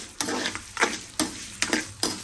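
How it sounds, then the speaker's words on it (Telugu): Cumin seeds and urad dal roast in a hot pan, a soft sizzle broken by four or five sharp scraping stirs at a regular pace, close by with no talking. "జీలకర్ర, మినపప్పు వీటిని కూడా బాగా రోస్ట్ చేసుకోవాలి దోరగా వచ్చేలాగా"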